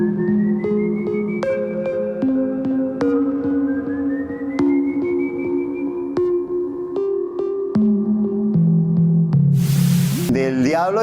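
Whistle effect for a Colombian oral-tradition legend: a series of eerie, sustained whistled tones stepping and gliding in pitch over a low hum, loud and continuous, ending in a burst of noisy hiss.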